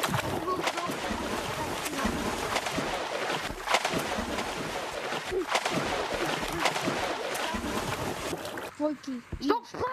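Continuous watery splashing and sloshing in the video game Gorilla Tag, with steady broadband noise, fairly loud throughout, with a voice speaking briefly near the end.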